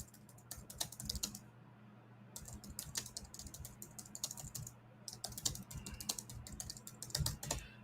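Close, quiet typing on a computer keyboard comes in rapid bursts of clicking keystrokes, broken by two short pauses and then resuming, with no voices.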